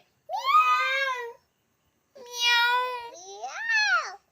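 A voice imitates a cat's meow in three separate drawn-out, rising and falling calls, close and fairly loud, with short silent gaps between them.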